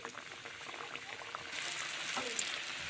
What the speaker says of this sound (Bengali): এখন আমি তেলে ভাজবো।